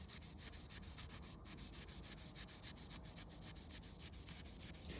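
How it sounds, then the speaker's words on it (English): Fine-grit Scotch-Brite pad rubbed back and forth across a Damascus knife blade during etching, a steady close-up scrubbing rhythm of quick repeated strokes with no talking. "And I'm gonna use that Scotch-Brite again."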